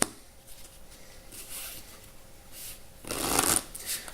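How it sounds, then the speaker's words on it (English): Two decks of playing cards being shuffled: soft riffling flutters, then a louder, rapid riffle near the end, close up with no talking. "they can come up and shuffle both decks prior to beginning"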